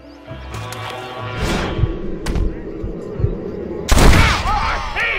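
Gunfire in Red Dead Redemption: several loud shots and thuds spread across the stretch, the biggest blast near the end, mixed with a voice in the game and other game sounds.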